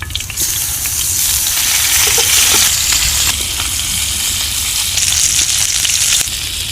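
Fish seasoned with turmeric and salt frying in hot soybean oil, giving a loud, steady, close sizzle that holds throughout, with faint bubbling crackles and occasional clinks.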